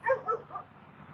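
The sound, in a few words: dog barking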